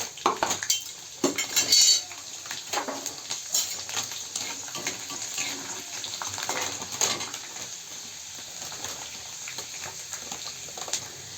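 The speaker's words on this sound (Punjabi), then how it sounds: "ਲਸਣ ਨੂੰ ਪਹਿਲਾਂ ਆਪਾਂ ਭੁੰਨ ਲਵਾਂਗੇ ਹਲਕਾ ਜਿਹਾ ਲਾਲ ਕਰ ਲਵਾਂਗੇ" Garlic frying in about half a ladle of hot oil in a pan for dal palak, giving a steady close sizzle with a few metal utensil clinks and stirring scrapes near the start.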